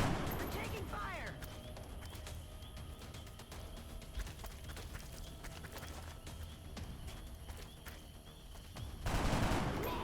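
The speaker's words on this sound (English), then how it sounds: "We're taking fire." Rapid gunfire in the XCOM Long War video game, a dense, continuous stream of sharp shots and clattering bursts that keeps going throughout and swells louder near the end.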